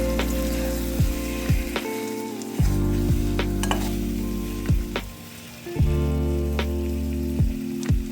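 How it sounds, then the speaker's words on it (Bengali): Halved boiled eggs being gently stirred in a frying pan with a spiced masala, steady loud sizzling broken by repeated scraping strokes of a spatula, close and without talk. "কষানো হতেই সিদ্ধ করে কাটা ডিমগুলো দিয়ে দিচ্ছি। এখন হালকা হাতে করে বেশ নেড়ে চেড়ে নিচ্ছি।"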